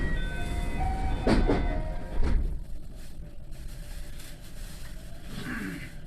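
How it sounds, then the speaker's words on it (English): Red Wing train pulling away from Waki Station on the Sanyo Main Line, a steady rumbling rail roar with a few tonal squeals and brief clunks early on, settling into a continuous smooth run. "The Red Wing departs from Waki Station."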